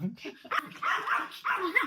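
Maltipoo dog barking in short, sharp yips and barks spread across a couple of seconds, close and fairly loud, with a few high whiny notes in between.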